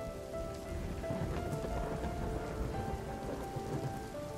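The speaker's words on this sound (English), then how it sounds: "It was thunder." Steady torrential rain pours throughout, with a low distant rumble of thunder rolling beneath the continuous downpour.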